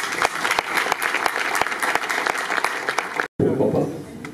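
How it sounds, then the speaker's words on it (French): A press-conference audience breaks into sustained applause, dense and loud with distinct sharp claps standing out, cutting off abruptly before a softer noisy tail. "Si on peut applaudir pour eux."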